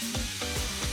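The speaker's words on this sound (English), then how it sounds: "Dry fry 400 grams of portobello mushrooms cut into chunks until browned." Portobello mushroom chunks dry-frying in a pot make a dense, close sizzle, broken by three quick rhythmic scrapes of stirring within a second.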